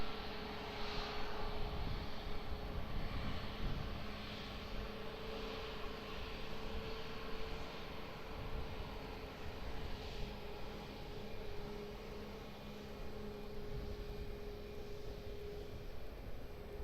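A fixed-wing airliner lands at Lisbon Airport on runway 20, its engine roar a steady distant drone with a low hum running beneath for the whole stretch.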